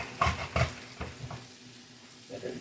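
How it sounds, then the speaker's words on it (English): Squash slices browning in butter in a frying pan: a soft, steady sizzle with a few close scraping turns of a utensil near the start, quiet and with no talk. "You just want to like lightly brown this squash with butter."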